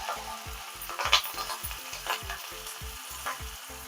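Ginger pieces, green chilli and curry leaves sizzle and crackle in a pan of hot oil with mustard seeds, urad dal and cumin, a steady close fry with stirring clatters at regular intervals and no talking.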